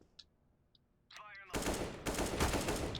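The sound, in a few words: gunfire in the video game Counter-Strike (CSGO)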